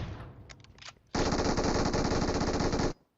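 Sustained automatic gunfire from a battle royale shooter, a loud continuous burst lasting nearly two seconds, preceded by a few shorter distant shots, with no talking.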